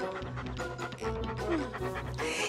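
A dog pants quickly and rhythmically, close by, with a few faint whimpery tones mixed in.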